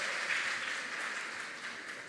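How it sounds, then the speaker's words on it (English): Applause from a school audience at a quiz contest in Tamale rolls on steadily for the whole stretch, a dense even wash of many hands clapping at a distance, moderately quiet with no voices over it. "A round of applause for them."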